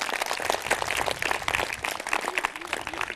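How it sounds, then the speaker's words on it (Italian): A studio audience claps steadily for two competing teams at a televised quiz game in Alessano, Puglia, a dense, even wash of applause lasting throughout. "fate un grande applauso"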